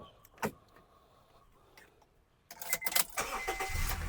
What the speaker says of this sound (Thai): สตาร์ทที่เดียวติดครับ